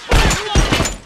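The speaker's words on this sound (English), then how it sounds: "This gun, the burst rifle's fucking awful." Burst rifle fire in The Last of Us multiplayer, two rapid close bursts of sharp loud cracks, each a quick cluster of shots, with a short pause between them.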